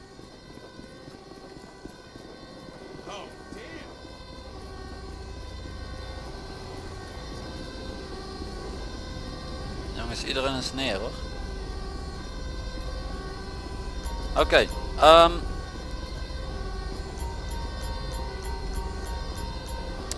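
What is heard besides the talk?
fire engine siren arriving, from video game GTA 5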